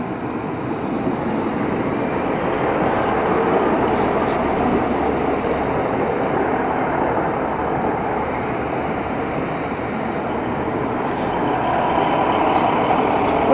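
A Great Western Railway passenger train rumbles steadily past at close range at Paignton station, a continuous loud roar of wheels and engine that holds for several seconds.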